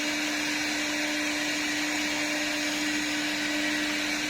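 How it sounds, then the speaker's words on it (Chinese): A 4-axis CNC wood lathe spindle machining wood, giving a steady, continuous motor whine with a strong constant tone over broadband noise, holding at an even level throughout with no speech. "然后再按循环启动就开始加工了"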